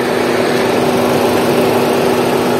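Steady engine drone of a Kia Sonet 1.2 HTK Plus petrol manual with the AC on, a continuous even hum with a constant low tone, loud and close throughout, no talking.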